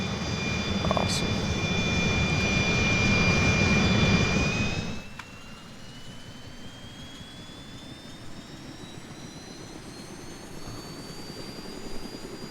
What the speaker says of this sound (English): Helicopters do not like taking off from angled surfaces.